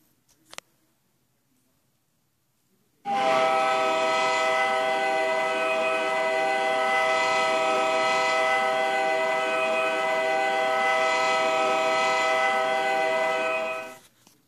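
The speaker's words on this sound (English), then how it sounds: "This is an EMD SD60 in demonstrator colors." EMD SD60 locomotive horn in demonstrator colors in the Trainz railway simulator, a single loud sustained multi-chime blast lasting about eleven seconds after a brief click, then cutting off.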